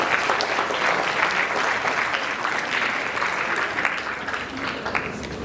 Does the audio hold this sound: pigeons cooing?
no